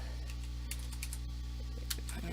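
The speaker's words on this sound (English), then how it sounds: "I only need to hit Enter 2 times between each term" Computer keyboard typing with soft key presses, including Enter keystrokes, scattered irregularly over a steady low hum, close and fairly quiet.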